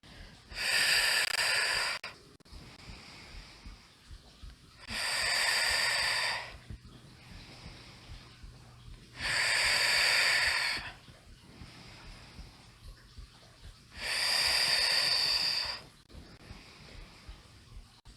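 Breathing during a Pilates reformer glutes and legs exercise: four long, loud, hissing exhales come at a steady, slow rhythm. Quieter inhales sit between them, close to the listener, with no talking.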